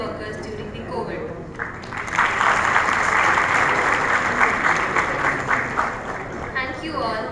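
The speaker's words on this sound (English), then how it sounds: "we would like everyone to give a round of applause" A conference crowd at a respiratory therapy symposium claps after a short moment of speech, the applause rising quickly and staying full and steady for several seconds before tapering as a voice returns.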